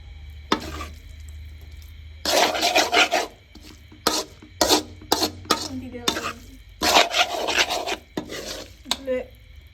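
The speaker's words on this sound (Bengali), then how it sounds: "এর মধ্যে আমার চাউমিনটা দিয়ে দিয়েছি। তো এটার সাথে এখন সুন্দরভাবে মিক্স করে নেব।" Chow mein noodles being stirred together with egg in a pan, heard as bursts of scraping and rasping utensil strokes against the pan with short pauses between them, with a faint sizzle underneath.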